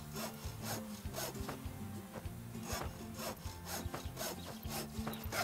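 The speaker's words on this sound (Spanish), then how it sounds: "Usa la motosierra." Chainsaw cutting through a tree in the video game House Builder, heard as repeated rhythmic rasping, sawing strokes with clicky game effects, steady and moderately loud with no voices.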